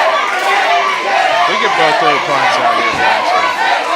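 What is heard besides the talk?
wrestling crowd cheering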